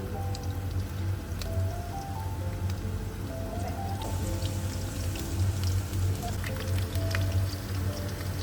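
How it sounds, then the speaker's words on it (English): Food deep frying in medium-hot oil until golden, a steady bubbling sizzle with soft crackles and pops running throughout at an even, moderately loud level. "Fry them in medium hot oil until golden and set."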